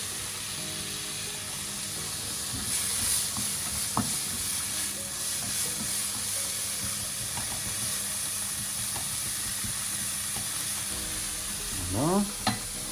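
Minced garlic and lemongrass stir-fry over high heat, giving a steady loud sizzle and hiss with occasional scrapes and clinks of stirring, close by and without talk.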